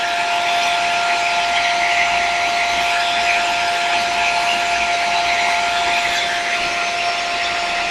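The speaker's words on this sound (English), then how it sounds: "I'm just gonna hold the hair dryer to my face" A hair dryer set to its lowest heat blows steadily and close by, a constant broadband whoosh with a thin high tonal whine running throughout, held near the face while peeling liquid latex.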